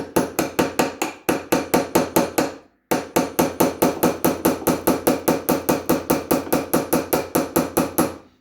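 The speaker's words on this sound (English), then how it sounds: "I'm just really lightly tapping until that nail sticks out enough here" Rapid, steady light hammer taps on a nail set, dozens in a row at an even rhythm, close and fairly loud, with one brief pause partway through.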